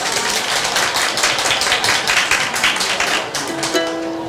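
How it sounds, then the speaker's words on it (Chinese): An audience at an outdoor market performance claps hands in a quick, rhythmic burst, many hands close together, fading into a thin tone near the end. "在开始之前，大家可以先拍手"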